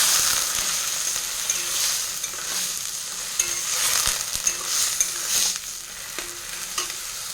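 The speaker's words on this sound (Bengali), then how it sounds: "এখন দুধটা ঢেলে দেবো" Milk poured into a hot pan of fried onion, chili and garlic tempered with nigella seeds, producing a loud steady sizzle and frying hiss with stirring scrapes throughout, no talking.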